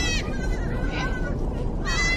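Goats bleating in a ghost town overrun by goats, with several wavering cries spread across the short stretch over a steady rumble of outdoor background noise.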